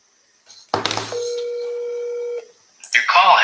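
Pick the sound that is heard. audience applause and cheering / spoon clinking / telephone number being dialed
telephone number being dialed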